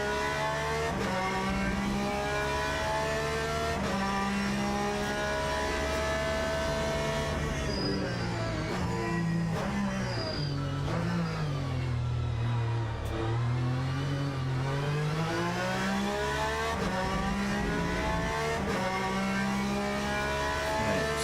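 Race car engine braking in the sim racing game Le Mans Ultimate, a steady loud engine drone with pitch dipping and rising over long stretches as revs fall and recover.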